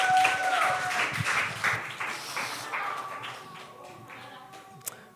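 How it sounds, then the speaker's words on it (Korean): A church congregation claps during a Sunday service, the applause loud at first and tapering off, with some talk and scattered sounds underneath. "어쨌든 우리 수고한 정은이를 향해서 박수 한 번만."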